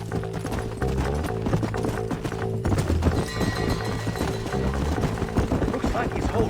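Hooves clatter in an uneven rhythm under dense game music in Red Dead Redemption, riders moving at pace with a brief voice breaking in, the hoofbeats moderately loud but partly masked.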